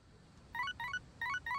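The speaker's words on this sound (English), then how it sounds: "I've got a text message." Phone text message alert in Persona 3 Reload, four bright chiming electronic tone bursts in two quick pairs, clear and close over a quiet background.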